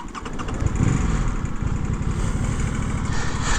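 Aprilia 600cc sport motorcycle engine starting and settling into a steady, loud idle, a continuous low rumble up close with no talking.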